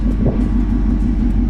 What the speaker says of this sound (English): we are going for a ride in this Ford Mustang